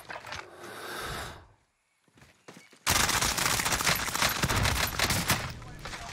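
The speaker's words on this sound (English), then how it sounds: "I missed a lot of shots right there." Gunfire in a first-person shooter video game, a burst of rapid shots, then a short lull, then dense, loud, continuous automatic fire lasting several seconds.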